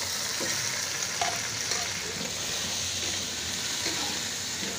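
Tomatoes going into a pan of deep-browned onions, with a steady close oil sizzle and a few soft stirring scrapes, no voices.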